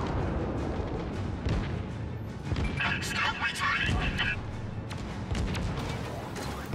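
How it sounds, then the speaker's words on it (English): A Tier X cruiser's guns fire at fighter aircraft in World of Warships, giving repeated cracking, booming shots in irregular bursts over a constant rumbling battle background. "I'm also shooting at some fighters for giggles here on my turn"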